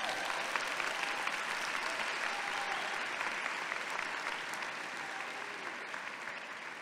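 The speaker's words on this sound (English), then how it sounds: "Just one last time, give yourselves a huge round of applause." Graduates at a commencement ceremony applaud themselves in a steady, dense roar of clapping that fills the hall and holds evenly, only thinning slightly toward the end.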